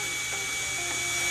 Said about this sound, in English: Drill holes for ventilation in the middle of the free half.